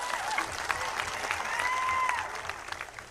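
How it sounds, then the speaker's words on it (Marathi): A crowd at a political rally in Maharashtra claps loudly and continuously, a dense burst of applause that swells and then tapers off while a voice carries faintly over it. "त्यांच्यासाठी जोरदार टाळ्या वाजवा."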